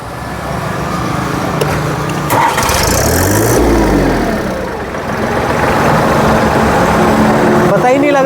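A Farmtrac four-wheel-drive tractor with a notably quiet engine is started, and its engine note rises and then settles into a steady running sound, close by, with a voice talking over it.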